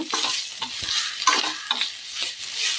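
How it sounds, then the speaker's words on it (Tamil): Cooked rice is stirred into fried rice in a hot pan, making a close, continuous sizzle broken by quick scraping stirs of the spatula. "இப்போ ரைஸை மிக்ஸ் பண்ணிக்கலாங்க."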